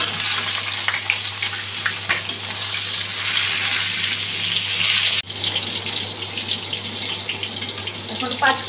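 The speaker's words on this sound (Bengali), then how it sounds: "পটলটা ভাজতে দিয়ে দিচ্ছি।" Pointed gourd pieces frying in hot oil in a pan, a continuous bright sizzle with occasional stirring clatter, close and steady.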